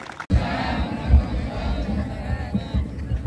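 A gathered crowd at an outdoor reunion and feast in Tambak, Ngargoyoso roars and cheers loudly and continuously after a brief silence, dense shouting voices filling the whole stretch with occasional louder swells.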